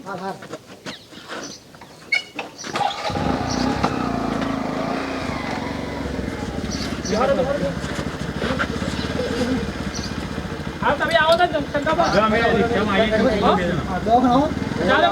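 A motorcycle engine starts and runs with a steady, rough rumble nearby while several people talk urgently over it.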